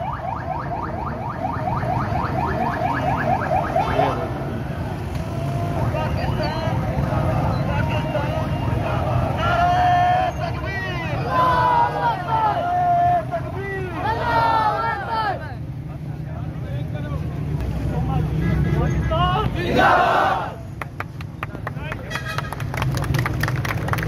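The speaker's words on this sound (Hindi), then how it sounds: "ये साथ में आप देख सकते हैं ये रैली आ रही है।" Outdoor street crowd noise at a town square rally on Independence Day eve, with motorcycle engines and horn blasts mixed in, a busy procession passing with voices and vehicle sounds throughout.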